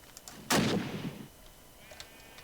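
A World War II gun fires once in a modded Minecraft game, a single loud, close shot with a short rumbling tail that fades within a second over quiet background.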